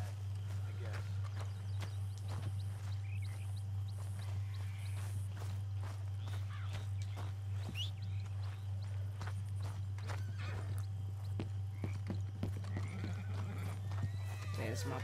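A horse in Red Dead Redemption 2 walks with soft clip-clop hooves and lets out whinnies, heard over a constant low hum with scattered clicks and game ambience.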